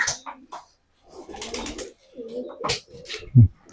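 A matched pair of pigeons coos in short, soft bursts, with quiet gaps between calls, and one louder low coo near the end.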